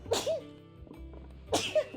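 A person sneezes twice, two sharp bursts about one and a half seconds apart, loud and close, heard during gameplay with a game soundtrack humming underneath.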